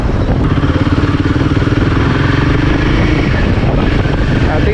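A Royal Enfield Himalayan 450 motorcycle on a long test ride, its engine giving a steady, loud low drone with a pulsing beat and wind rumble throughout, no talking.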